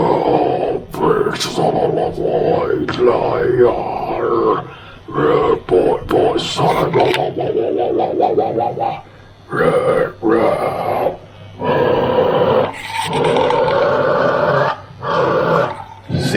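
A human voice runs through a guitar overdrive effect pedal, coming out as gritty, distorted, growling bursts that sound almost like a barking dog, loud and close with short gaps between phrases.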